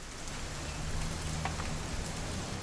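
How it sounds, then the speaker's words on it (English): Steady rain pouring down in the video game What Remains of Edith Finch, a continuous dense hiss of drops with no pauses and no voices. "It's gonna rain the whole weekend"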